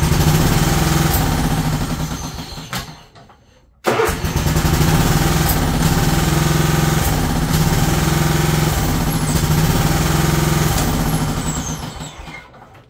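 A 2002 Scotts by John Deere lawn tractor engine runs loud and close, fades and dies, then restarts abruptly and keeps running steadily before dropping off again.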